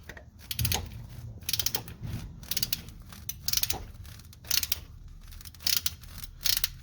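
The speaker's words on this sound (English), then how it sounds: "you got to get a 15mm socket up here where I'm currently getting this off at" A 15mm socket wrench ratchets on a car's negative battery ground bolt tucked between cables and hoses, giving rapid clicking and metallic ratcheting bursts close by, on and off over a low background rumble, with no talk.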